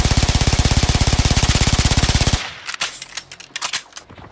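Suppressed submachine gun in the shooter Warframe firing a fast, steady automatic stream of muffled clicking shots for about two seconds, then stopping to scattered sharper impacts and clatter, loud and close.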